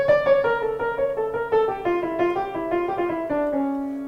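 Jazz improvisation on a single melodic instrument, likely piano, running a harmonic minor scale line: a steady stepwise stream of clear sustained notes, gradually descending, played alone at moderate volume with no talking.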